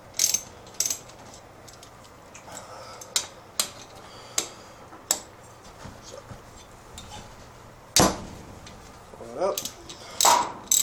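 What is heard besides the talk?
ratchet loosening bolts on a Briggs engine teardown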